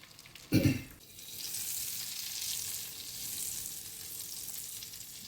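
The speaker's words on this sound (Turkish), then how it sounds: "Böyle yağ biraz kahverelişinceye kadar yakacağız." Butter browning in a pan for fried eggs gives a steady, soft frying sizzle after a brief thud, continuing evenly at moderate level.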